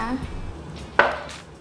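A single sharp knife cut through Thai chicken sausage strikes a board, a crisp chop standing out over faint background murmur, with softer handling noises just before.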